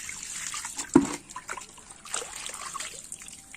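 Lead-antimony metal being rinsed in water, giving a soft trickling and dribbling of liquid with one brief splash near the start, quiet and close with no talking.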